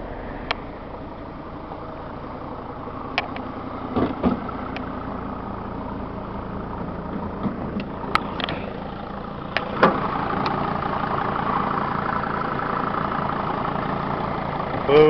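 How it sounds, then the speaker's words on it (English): Diesel engine of a 2006 Dodge Sprinter 2500 van idling steadily just after starting, a low, even rumble with a few faint clicks and knocks that grows a little louder toward the end. "I just started this vehicle and it's been sitting for about a week, and it started right up. All these diesels crank up really nicely."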